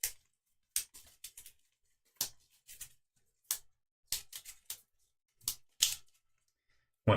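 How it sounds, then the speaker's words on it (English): Game cards for the Kingdom Death: Monster board game being shuffled by hand: a series of short, crisp riffles and taps in irregular bursts with quiet gaps, close and fairly soft. "Give these a little shuffle here too."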